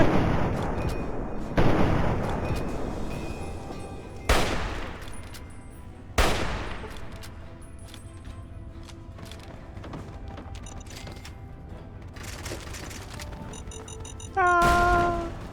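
Explosions and gunfire in the video game Fallout 3, with several loud sharp blasts spaced a few seconds apart over a rumbling background, ending in a burst of chiming tones.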